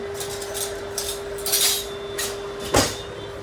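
Cooked chicken is stirred in a pan while being reheated, with several bursts of scraping and clattering from the spoon against metal and a louder knock near the end, over a steady electrical hum.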